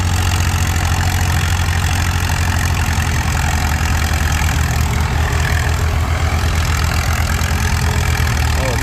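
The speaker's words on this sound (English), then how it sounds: "Damn good running tractor right here." An antique tractor engine runs steadily and loudly close by at a tractor pull, a constant low mechanical drone with no pauses.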